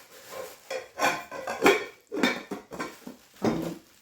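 A saucepan and a pot are handled close up, with several irregular metallic clinks, knocks and scrapes and no talking.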